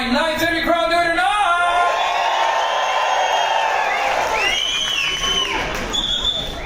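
A cruise ship audience aboard the MSC Grandiosa cheers, whoops and shouts loudly in a sustained roar at an evening show, with rising whistles and yells throughout.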